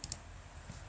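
Two quick computer mouse clicks land near the start, selecting a radio button in an Arduino-linked robotics imaging program, then only faint room hiss remains.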